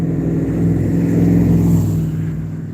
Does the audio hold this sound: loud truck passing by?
yes